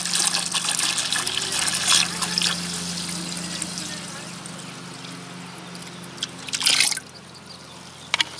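Water pours from a jug into a container for cleaning old traps, a continuous close trickling gush that fades toward the end, with a brief louder splash near the finish.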